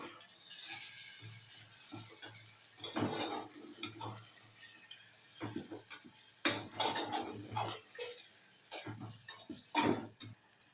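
Food being stirred in a cooking pot on a home kitchen stove, with coriander about to go into the curry: a run of scraping, clinking spoon-against-pot strokes in irregular bursts, close and fairly quiet, with no talk.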